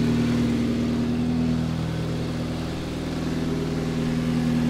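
A homemade generator engine with its alternator running, a steady close-up drone with a strong tonal hum and a slight dip in intensity midway, with no talk.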